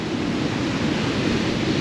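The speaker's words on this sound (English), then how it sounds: "these waves are massive" Large sea waves break on the beach at Tunstall on the UK's East Coast, a continuous heavy roar of surf mixed with wind buffeting the microphone.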